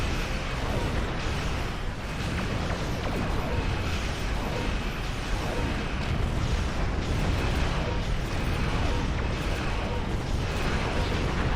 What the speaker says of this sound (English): When it said pulse cannon, it meant it.